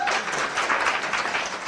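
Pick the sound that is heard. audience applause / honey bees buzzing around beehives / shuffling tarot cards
audience applause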